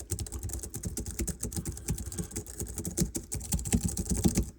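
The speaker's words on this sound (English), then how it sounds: "I want to let you hear the key travel on both of these keyboards" Rapid, continuous typing on a compact Logitech keyboard, close and clear, with dense clicking keystrokes in an uneven rhythm and no voices.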